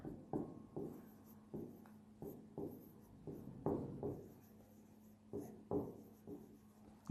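Chalk or marker strokes on a board during a physics lecture on rectilinear motion, coming in repeated short scratchy bursts with brief pauses between them, fairly close and with no talking over them.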